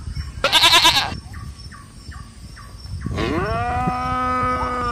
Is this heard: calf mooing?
yes